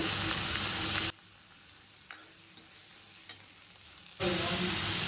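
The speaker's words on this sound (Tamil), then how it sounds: "ஒரு 2 பெரிய வெங்காயம் பொடியாக கட் பண்ணி வச்சுருக்கேன், அதையும் போட்டுக்கலாம்" Chopped onions and curry leaves fry in a pan with loud, dense sizzling at the start and at the end. In between it drops to a quiet crackle with a few light stirring clicks.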